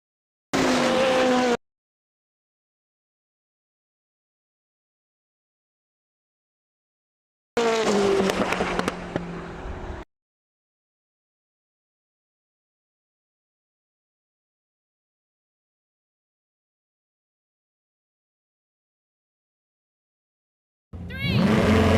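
A Bugatti Chiron Super Sport and a Koenigsegg Jesko launch in a drag race, heard as three short, loud bursts of engine roar and tire noise separated by long stretches of silence.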